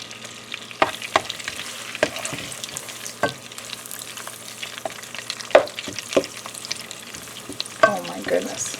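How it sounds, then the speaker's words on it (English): Sage leaves fry in browning butter in a pan, giving a soft steady sizzle broken by several sharp clinks and stirring scrapes at irregular intervals, with no talking. "we're going to put each of the leaves in here and let them brown along with the butter."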